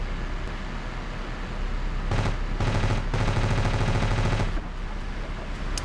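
Automatic gunfire in the video game Ravenfield, a few short bursts of rapid shots over steady engine-like background noise, fairly loud and without speech.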